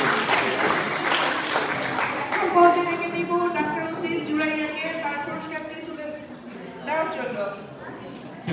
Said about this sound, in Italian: Grazie Marta, un applauso.